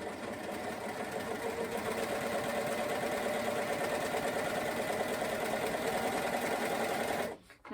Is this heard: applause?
no